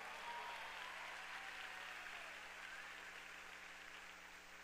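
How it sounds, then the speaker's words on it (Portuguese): Large audience applauding at a church conference, a faint, steady, rain-like wash of clapping that stays even throughout and tapers slightly at the end. "Vou aplaudir essa turma de longe aí, ó."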